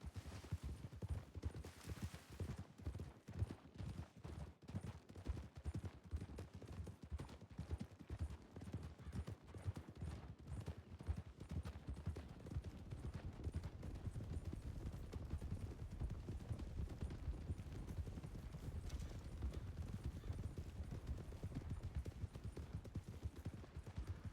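Horses' hooves clip-clop steadily through a western video game, a dense run of quick rhythmic hoofbeats sustained throughout with a constant busy game soundscape behind them.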